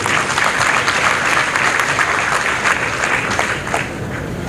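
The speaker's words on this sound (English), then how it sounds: "You can give them a clap." Audience at a scientific health conference breaking into loud, sustained applause that fills the hall, easing slightly near the end.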